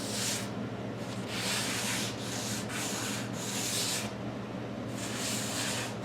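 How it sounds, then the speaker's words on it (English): Folded sandpaper rubs by hand along a V groove in wooden cabinet doors, a steady close scratchy swishing in repeated back-and-forth strokes with brief pauses, and no one speaking. "I'm using a folded piece of sandpaper."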